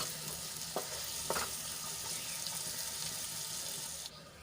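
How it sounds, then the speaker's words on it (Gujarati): Chopped onions sautéing in a pan, a steady close hiss of frying with a few brief scrapes and knocks as they are stirred, ending abruptly. "હવે ડુંગળીને આપણે ગુલાબી રંગની થાય ત્યાં સુધી આપણે એને સાંતળી લેવાની છે"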